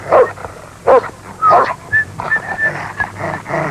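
A dog yips and whimpers in a few short, close bursts, with quiet whistle-like tones between them, in a dog treat advertisement from early-1980s Cleveland television.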